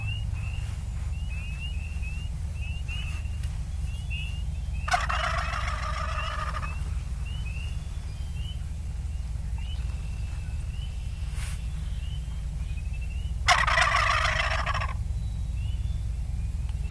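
A wild turkey gobbles twice at a distance during a turkey hunt, each gobble a rapid rattling burst, over a steady low outdoor rumble and faint repeated chirps.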